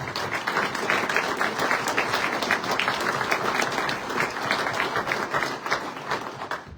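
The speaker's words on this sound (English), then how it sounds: "Can you guys please give him a round of applause?" Steady, sustained applause from an audience at a county political dinner, a thick wash of many hands clapping at even loudness throughout, with no voices standing out.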